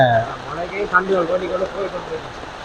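Heavy rain pours down in Jaffna as a steady broadband hiss, with voices talking over it throughout.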